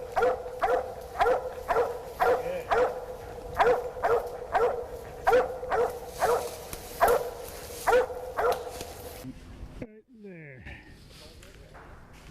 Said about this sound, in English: we can hear a dog treeing back in here